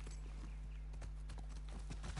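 Horse hooves clip-clop steadily in The Last of Us Part 2, a quick, even run of hoofbeats over a low, constant game hum, with no voices.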